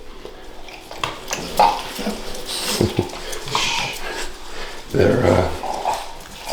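Several dogs growl, whimper and let out a few barks indoors in the morning, close and fairly loud, with a person speaking briefly among them.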